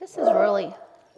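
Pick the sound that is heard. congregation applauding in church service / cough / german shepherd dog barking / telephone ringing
german shepherd dog barking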